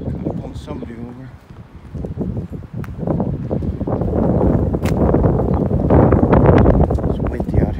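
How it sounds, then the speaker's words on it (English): Wind blowing outdoors beside a flooded creek after a storm in Nutley, New Jersey, rumbling and buffeting the microphone and growing stronger toward the end, with people talking under it. "It's windy out here too."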